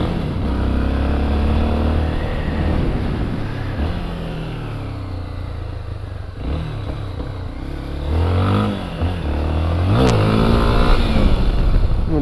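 A Honda XRE motorcycle runs near at hand on a street, its engine rumbling low and steady before rising into several short revs and blips, with the throttle swelling and falling again toward the end.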